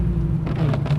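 A BMW M3 E92 engine pulls hard at high revs as the car accelerates, giving a loud, steady low drone with some wind rush over one brief second.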